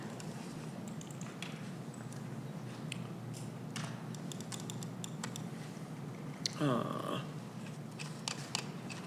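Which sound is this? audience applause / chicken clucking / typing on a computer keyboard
typing on a computer keyboard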